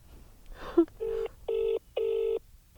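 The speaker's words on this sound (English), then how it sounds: "How the phone just went off like a firework then." A telephone goes off with a short chirp followed by three evenly spaced, loud electronic ring bursts, each lasting about a third of a second, with no talking.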